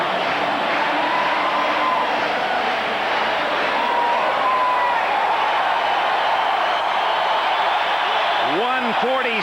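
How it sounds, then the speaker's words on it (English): A stadium crowd at a rainy 1992 NFL divisional playoff between the Miami Dolphins and San Diego Chargers cheers in a constant loud roar, with a commentator talking over it throughout. "And it rains harder, and the fans cheer louder for Miami."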